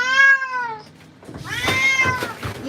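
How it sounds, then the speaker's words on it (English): A Persian cat meows during a bath at a grooming spa: a long, loud, wavering meow, a brief pause, then another drawn-out cry mixed with splashing and handling noise close by. "God forbid the cat meows."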